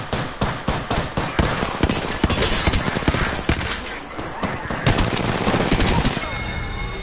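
Automatic gunfire in a video game, rapid bursts of loud shots in quick succession, some closer and some further away, with a voice breaking in between.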